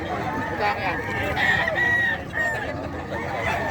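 Roosters and chickens at a pet market in Bocaue, a rooster crowing and fowl clucking amid a busy, noisy crowd, with people talking throughout.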